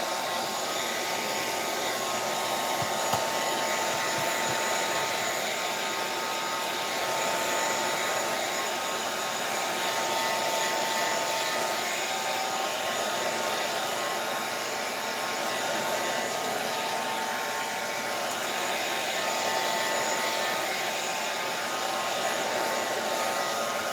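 A hair dryer blows steadily at close range to dry matte Mod Podge on a steampunk junk journal page, a continuous loud whooshing roar with no talk.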